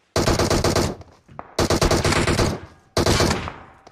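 Gunshots in PUBG Mobile, three loud close bursts of rapid automatic fire separated by short pauses, each rattling off and fading into brief quiet.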